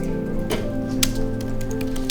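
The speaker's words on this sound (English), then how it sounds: "So I always start off with typing." Quick clicking keystrokes on a keyboard in a high school business and technology class, irregular sharp taps over a steady electrical hum, some louder clacks standing out.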